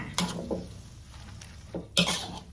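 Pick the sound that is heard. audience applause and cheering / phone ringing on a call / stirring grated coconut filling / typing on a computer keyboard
stirring grated coconut filling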